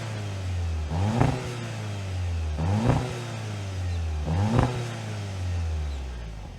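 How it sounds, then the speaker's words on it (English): A 2026 VW Jetta GLI Autobahn in sport mode revs through its dual exhaust three times, each rise climbing and dropping back to a steady idle, loud and close with no talk. "we should hear how this dual exhaust sounds in sport mode"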